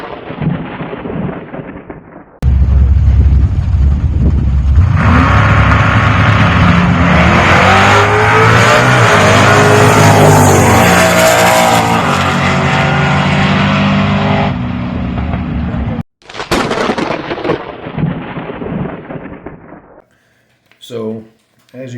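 A drag racing car makes a pass at Bowman Dragway, its loud engine roaring steadily for over ten seconds before cutting off, followed by further engine bursts and talk at the start.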